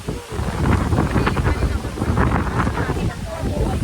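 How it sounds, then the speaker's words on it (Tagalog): Strong wind roars and buffets the microphone continuously, a loud rumbling gust that barely lets up. "Super lakas ng hangin at everyone."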